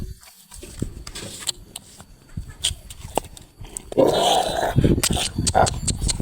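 Outdoors near a village temple, a dog growls and grumbles in short bursts. Scattered scuffs and handling sounds come through around it, and the dog sounds grow louder toward the end.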